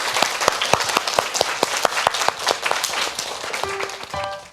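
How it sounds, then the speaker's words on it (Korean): A school audience at a middle school student deliberation committee event claps in a burst of sharp, distinct hand claps, loud and fairly close at first, thinning toward the end as a brief electronic tone sounds. "박수."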